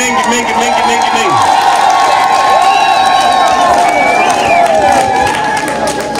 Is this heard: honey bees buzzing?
no